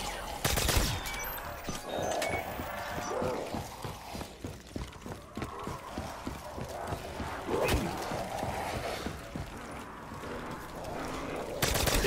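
Video game combat with several sharp gunshot and explosion bursts, the loudest near the start and end, over steady busy battle noise and scattered footstep-like clatter.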